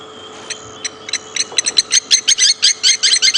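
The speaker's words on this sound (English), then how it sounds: "Those are the blacksmith lapwings." Blacksmith lapwings at Djuma Game Reserve give sharp, metallic clinking calls that start sparse and quickly speed into a rapid, loud, insistent series, heard close with no talk.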